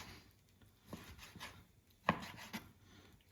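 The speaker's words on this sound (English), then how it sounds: "cut slices like that" A knife cuts thin slices of raw chicken tenderloin against the grain on a board, giving a few soft, close taps and scrapes, with one sharper chop standing out midway.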